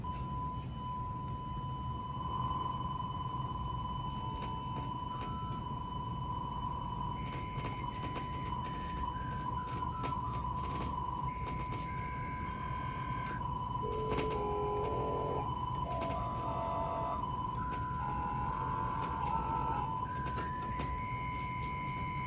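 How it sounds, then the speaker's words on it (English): A steady 1 kHz sine test tone runs throughout at a constant level over a hiss of audio codec noise, with faint shifting tones intermittently layered on top from an FPGA vocal harmonizer. "So we'll start out by using a 1 kilohertz sine wave, and you're going to hear some of that noise from the audio codec itself."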